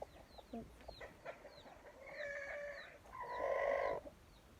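Small chick peeping in high, thin repeated calls among hens clucking and crowing nearby in an outdoor homestead yard.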